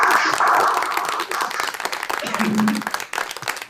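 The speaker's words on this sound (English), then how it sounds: "Let's clap for him." Audience applause at a school quiz semi-final, a burst of clapping from a crowd that fades after a few seconds, with a voice speaking over it.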